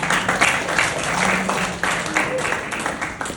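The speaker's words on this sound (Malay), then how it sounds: "Beri tepuk tangan" Attendees at a sales meeting clap together, uneven bursts of applause mixed with cheering and overlapping voices in a room.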